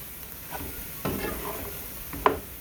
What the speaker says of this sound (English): We're gonna get this stirred up.